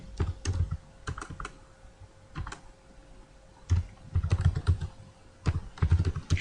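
Someone types in bursts on a computer keyboard, irregular clusters of crisp close key clicks separated by short pauses.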